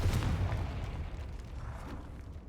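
A Confringo fire spell bursts in Hogwarts Legacy, a heavy booming blast with a deep low rumble that decays over a couple of seconds, with no talking.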